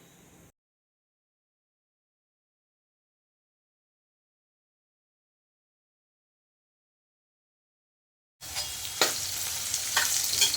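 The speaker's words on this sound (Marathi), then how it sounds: "जिरं मोहरी तेलामध्ये बटाटा छान परतला जातोय" Potatoes sauté in oil with cumin and mustard seeds, a loud, close, steady sizzle that starts suddenly near the end after a long stretch of silence.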